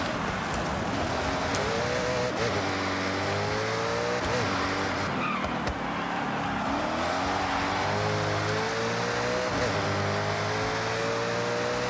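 A Mercedes CLK GTR race car in a racing game roars steadily, its engine pitch rising and falling through gear changes and corners, with occasional tire squeal, loud and continuous throughout.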